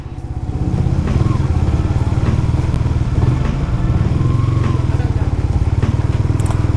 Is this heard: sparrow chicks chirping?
no